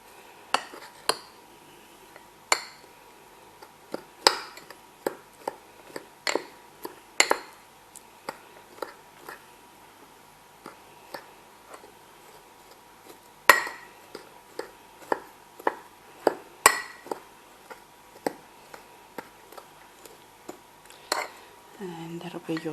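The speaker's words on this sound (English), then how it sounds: "Give that a bit of a mix." A spoon scrapes and clinks against a bowl while brown sugar, chopped walnuts and cinnamon are stirred into a crumble topping, with irregular sharp taps spread across the stretch and a steady faint hum underneath.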